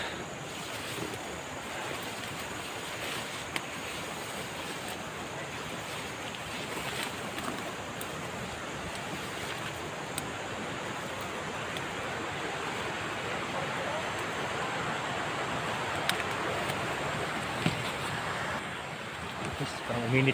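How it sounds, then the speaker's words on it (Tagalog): A fairly large creek flows with a constant broad rush of water, with wind-like noise and occasional faint knocks, steady and unbroken throughout. "Ito may malaking medyo sapa dyan."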